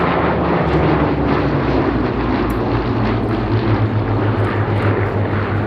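A Hawker Hurricane, a World War II propeller warbird, flies past at an airshow at Sywell, its loud piston engine droning steadily with a shifting pitch as it passes.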